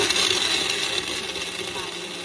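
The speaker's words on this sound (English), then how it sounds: "just mixing it on my little blender here" A small countertop blender whirs steadily at a constant speed while mixing a chocolate protein smoothie with leftover greens and ice, giving a loud, continuous motor drone with a rough, gritty texture throughout.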